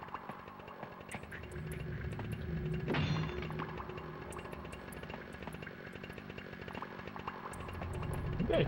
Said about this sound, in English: I hear another chainsaw.